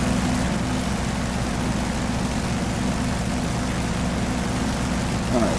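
A propeller plane engine in the video game Maximum Attack, the F4U Corsair, drones loudly and continuously with a deep, steady low-pitched rumble from start to finish.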